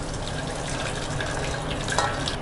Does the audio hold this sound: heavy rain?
no